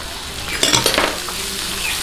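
Tomatoes go into a pan of softened sautéing onions for a Filipino ginisang labanos: a close cluster of clinks and scraping of a utensil against the pan, then a steady low sizzle.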